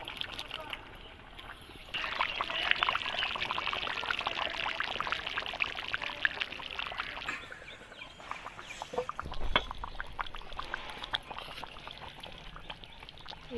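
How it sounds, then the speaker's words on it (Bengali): Spice-washing water being poured into a pot of handi chicken, with a steady splashing pour and a hissing sizzle, while a voice talks over it. "এই মশলা ধোয়া জলটা আমি এর মধ্যে দিয়ে দেবো,"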